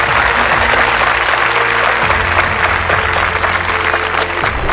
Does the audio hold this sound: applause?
yes